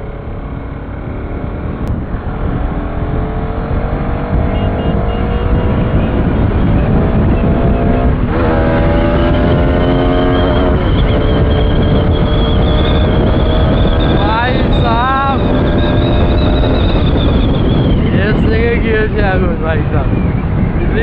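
Duke 200 and RS 200 motorcycles race at full speed, their engines droning loud and steady with rising and falling pitch sweeps as they rev and pass, wind rushing over the microphone throughout and voices talking over it.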